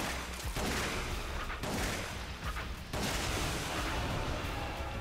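Dense gunfire in the Resident Evil: The Umbrella Chronicles video game, a loud sustained volley of shots broken by two brief lulls, steady and close with no talk.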